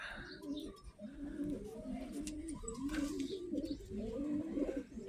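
Many racing pigeons cooing softly in a loft, overlapping low burbling calls continuing throughout, with faint background chatter.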